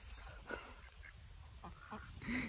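Ducks quack and honk in short bursts at moderate distance, a few calls scattered over quiet outdoor background.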